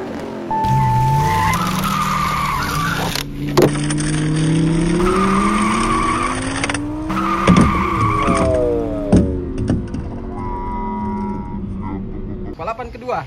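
Hot Wheels toy die-cast cars race down a track, with continuous whirring wheel noise, rising squeal-like tones and small clacks along the run, under near-constant talk.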